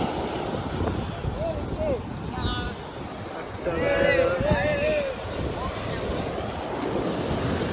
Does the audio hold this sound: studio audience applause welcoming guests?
no